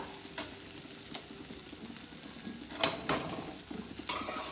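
Coriander leaves fry in a pan while lemon rice is being made, giving a constant close sizzle broken by light clicks and scrapes from stirring.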